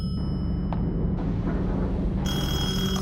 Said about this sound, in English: I'm gonna go ahead and answer that phone because I'm sick of hearing it.